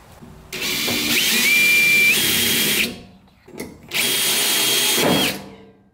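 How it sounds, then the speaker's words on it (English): A power drill bores a hole through a rusty truck bed, loud and close with a high whining tone, running in two long bursts separated by a brief pause. "So I got that one drilled out now."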